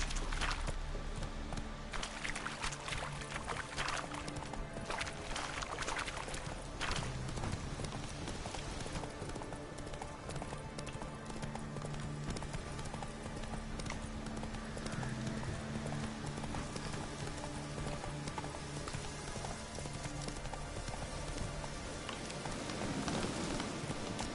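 Horse hooves clip-clop steadily in The Witcher 3, a continuous rhythmic trot over a dense, rain-like game soundscape that stays at an even level throughout.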